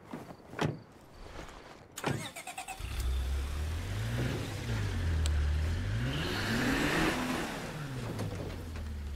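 A truck in State of Decay 2 starts after a few door clunks and clicks, then its engine runs and revs in rising and falling swells, loud and close with no talk.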